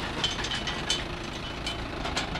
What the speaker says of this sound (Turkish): Bir traktör geçsin, ondan sonra devam edelim.